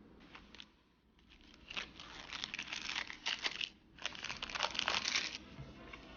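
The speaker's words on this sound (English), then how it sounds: "let's open this new deck of cards here" The plastic wrapper on a new deck of Ellusionist playing cards is torn and crumpled open, giving close, sharp crinkles in bursts with a brief pause in the middle.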